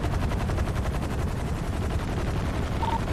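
Rapid, continuous automatic gunfire in a Brazilian favela police-raid shooter game, dense and steady throughout with no pauses, fairly loud and close.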